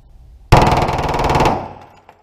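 A fully automatic firearm at the Lock & Load Miami shooting range fires one loud, close sustained burst of rapid shots lasting about a second, followed by a fading echo and a faint click.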